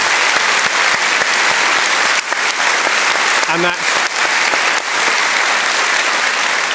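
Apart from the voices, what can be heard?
theatre audience applause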